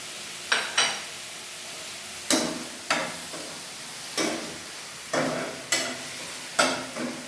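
Chicken with green chilli, garlic and ginger frying in a pan for fried egg rice, quiet sizzling under a series of sharp stirring scrapes and taps that come roughly every half second to a second, no talking.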